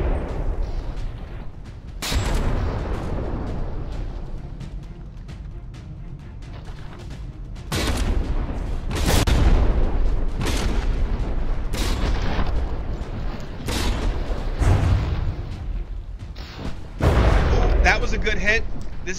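Heavy turret artillery booms out in a naval battle between warships in the video game From the Depths: a series of loud, sharp blasts spaced a second or two apart over a rumbling battle bed, with a commentator talking throughout.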